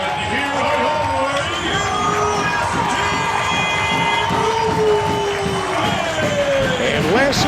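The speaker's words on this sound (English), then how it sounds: "listen to this crowd as USJ entering the field out of the north end zone" A football stadium crowd roars and cheers as the teams run onto the field, a dense loud wall of shouting and whooping at a high school game, with an announcer's voice partly audible underneath.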